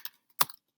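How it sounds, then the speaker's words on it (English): Typing on a computer keyboard, with a few quiet, sharp key clicks spaced irregularly, one louder tap near the middle, close and isolated. "I'm going to type it out for you."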